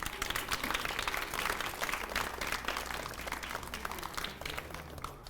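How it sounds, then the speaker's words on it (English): Audience applause for the esports teams at an SDC Radiant Rumble 2024 finals event, steady dense clapping with crowd noise that holds evenly throughout. "massive round of applause for both teams"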